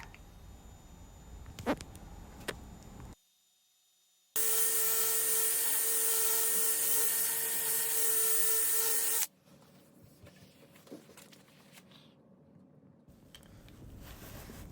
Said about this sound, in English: I'm doing a combination of sanding and the Nylock wheel to get some of the more stubborn bark off